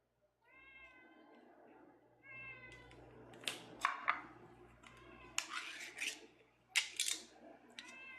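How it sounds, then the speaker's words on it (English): A cat meows several times in a row, some calls low and drawn out, others sharper, with small rustling and scraping sounds between them in a quiet room. "that was a low meow"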